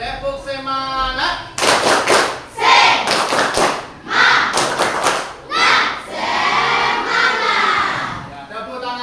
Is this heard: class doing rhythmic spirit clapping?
yes